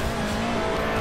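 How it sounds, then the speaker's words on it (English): A race car slides sideways under the handbrake, its tires skidding against a steady, loud engine drone for about a second. "I feathered the brakes and then hit handbrake to get myself sideways"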